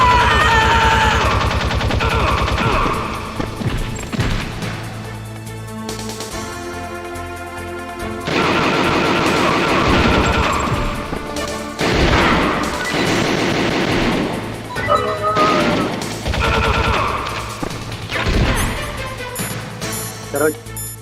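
Gunfire in the Metal Gear Solid video game, loud bursts of shots and crashes in several clusters over a game soundtrack, with voices talking between them.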